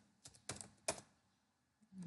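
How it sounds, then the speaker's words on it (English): A few sparse, faint keystrokes on a computer keyboard while C++ code is typed into the vi editor, with quiet pauses between the clicks and no talking. "Now I will type C++ code."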